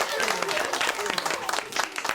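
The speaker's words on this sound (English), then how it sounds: "give yourself a big round of applause." A classroom of young children applauding after a singing activity, a short burst of uneven clapping with voices mixed in, fairly close and moderately loud.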